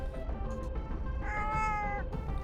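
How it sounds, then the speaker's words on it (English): A gray cat grumbles while being petted, giving a low, continuous rumbling growl that rises into a whiny, drawn-out meow midway, close and fairly loud over a steady background hum. "the cat flattens her ears and grumbles"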